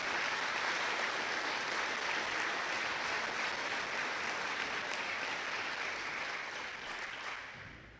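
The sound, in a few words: audience applause for students at an honors night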